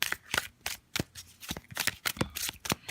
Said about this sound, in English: So we'll give it another shuffle